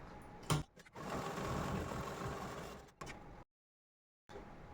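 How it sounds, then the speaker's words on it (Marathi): A sewing machine stitches the fabric lining of a puff blouse sleeve, running in a close, steady whirring burst for about two seconds, pausing, then starting again briefly. "आता परत आपण अस्तरवरच शिलाई मारणार आहोत"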